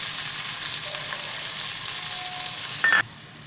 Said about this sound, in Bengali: এখন এর মধ্যে পেঁয়াজ রসুনটা দিয়ে দেব